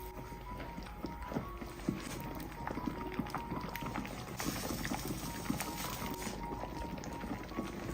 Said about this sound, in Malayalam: വെള്ളം ഒന്ന് തിളക്കട്ടെ ഇപ്പൊ വെള്ളം എന്താ തിളച്ചിട്ടുണ്ട്